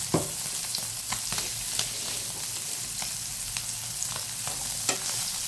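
Paneer tikka pieces sizzle and fry steadily in a hot pan, with occasional light scrapes and taps as they are stirred, close and continuous with no talking.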